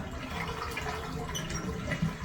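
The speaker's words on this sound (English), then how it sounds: "Flush your toilet." A toilet flushes during work on a clogged main drain, a continuous close rushing and gurgling of water that holds steady for the whole stretch.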